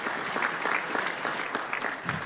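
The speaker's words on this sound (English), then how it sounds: "Round of applause." An indoor audience at a flight simulation expo claps steadily in sustained applause, with a voice faintly audible beneath the clapping.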